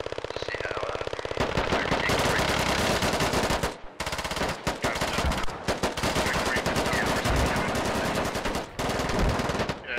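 Rapid bursts of automatic gunfire from the military shooter game Squad, loud and dense, nearly continuous with brief pauses between volleys and sharp individual shots cracking through.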